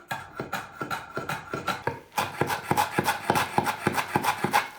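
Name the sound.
finely mincing meat and vegetables with a knife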